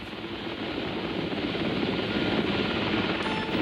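A rescue helicopter flies low and slow, its broad engine and rotor roar rising steadily and filling the whole stretch with no talk over it.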